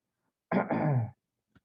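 A single rough cough, close and clear, lasting about half a second, followed by a tiny faint throat sound.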